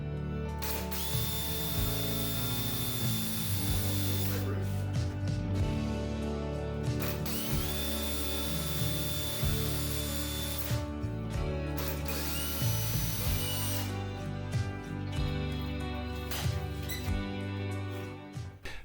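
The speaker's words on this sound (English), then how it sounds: "Drill out all the pilot holes, making sure that you're doubly careful not to drill right through the door." A power drill bores pilot holes into a wooden door for a Suffolk latch, its motor whining in several repeated bursts that rise and fall in pitch, with short pauses between them.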